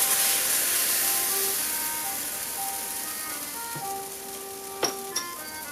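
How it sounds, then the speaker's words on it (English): Crepe batter sizzles in a hot oiled pan with a continuous bright hiss that slowly eases. A faint steady hum sits underneath, and two sharp clicks of a utensil come near the end. "Got a pan here, it's hot, it's oiled up. We put it on and it immediately sizzles."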